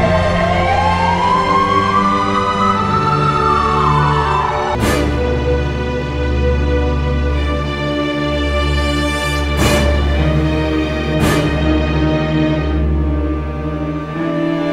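An ambulance siren in a Hindi action film opens with a rising wail and then holds a loud, steady electronic tone over a deep engine rumble, with a few sharp knocks cutting through it and no speech.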